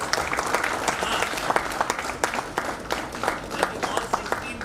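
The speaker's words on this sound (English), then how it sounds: "We should round of applause for Upadhyay sir also." A room of attendees at an HR network meeting applauds with a sustained patter of clapping, individual sharp claps standing out from the crowd, with some talk mixed in underneath.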